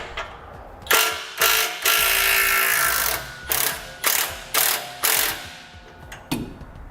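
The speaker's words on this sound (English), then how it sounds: "We'll use a 15mm socket to loosen our clamp." A hand ratchet with a 15mm socket loosens an exhaust clamp on a 2017 Ram 3500 pickup, giving several loud clicking bursts in an uneven rhythm, close up and with no talking.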